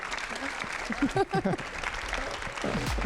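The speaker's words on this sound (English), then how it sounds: "Please, a big round of applause for everyone." An audience applauds after a talk about phone use, a dense wash of clapping running the whole time while a voice speaks over it briefly near the middle.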